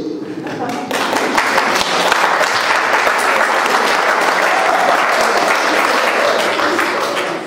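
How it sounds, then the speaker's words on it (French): Audience at an exhibition opening breaking into loud, sustained applause, many hands clapping densely after a brief moment of quieter room sound at the start. "alors là vous pouvez applaudir tous"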